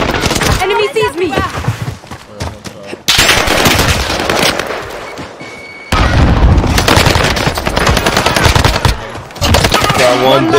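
Gunfire in Call of Duty Modern Warfare 2 trios matches: dense, loud automatic weapon bursts and booming shots fill the whole stretch, with brief gaps. Players talk over the shooting.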